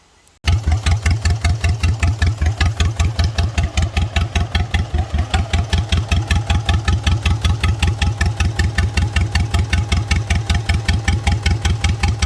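Big Cam Cummins diesel in a 1987 Freightliner cabover idles close by after a brief quiet moment, settling into a loud, even, rhythmic knocking chug that continues steadily.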